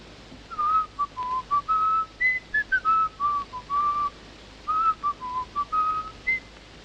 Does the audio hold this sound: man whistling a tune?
yes